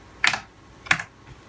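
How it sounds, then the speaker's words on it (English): Two crisp, close computer keyboard keystrokes land a fraction of a second apart, followed by a faint third tap, as an IP address is entered. "So we can go ahead and close this and type that in right there."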